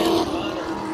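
Race cars in a regional racing series roar along the track, a loud, close engine note that dips briefly after the opening burst and then holds steady.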